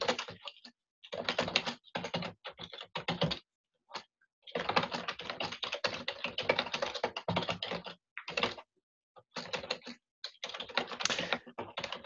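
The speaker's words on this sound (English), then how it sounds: "I'm gonna type that in." Typing on a computer keyboard, close by, in irregular bursts of rapid key clicks separated by short pauses, alone with no talking.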